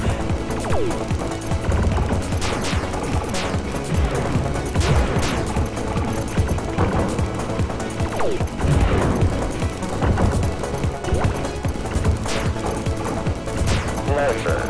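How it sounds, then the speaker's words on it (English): Electro cannons fire in the arcade shooter TxK, a dense, continuous barrage of crackling electronic blasts and bursts that pile on top of each other at a fast, irregular rhythm. "Thanks to these fucking electro cannons."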